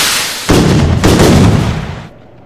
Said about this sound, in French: Il y a des feux d'artifice.